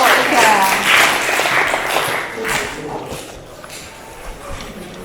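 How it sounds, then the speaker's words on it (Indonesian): A classroom group applauds for group 3 in a teaching session, the clapping loudest at first and fading over a few seconds while voices talk over it. "Jadi tepuk tangan untuk kelompok 3"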